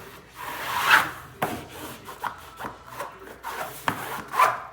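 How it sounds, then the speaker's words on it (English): Hands rub and smooth Phillip Jeffries textured wallcovering into a wall corner, making close, soft scraping swishes in uneven strokes about every second, with no talking. "So I'm feeling with my right hand, smoothing with my left."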